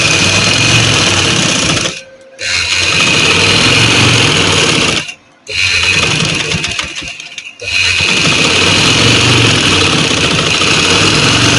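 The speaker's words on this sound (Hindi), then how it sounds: "सेम दूसरी साइड पे भी इसी तरह हम किनारे पे सिलाई लगा देंगे।" A sewing machine stitches along the edge of a salwar, running loud and close in a fast steady whir, stopping briefly two or three times before carrying on.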